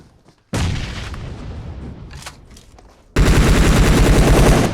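Explosions and gunfire in PUBG Mobile, a sudden loud grenade blast, then a scattered lull with a few shots, and then a sustained roar of heavy automatic fire close by.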